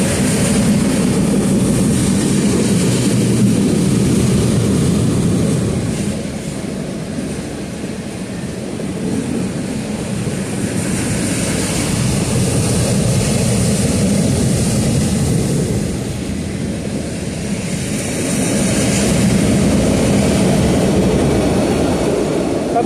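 A long freight train hauling trash cars passes close by, a loud sustained low rumble and drone that swells and dips in waves over about twenty seconds, with no talking.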